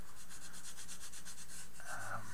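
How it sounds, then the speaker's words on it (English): Hand sanding a turned wooden bowl with worn 120 grit sandpaper: a quick, steady series of rhythmic scratchy rubbing strokes, close and fairly quiet, with no talking. "I'm just going to go and sand, and it clags up the sandpaper"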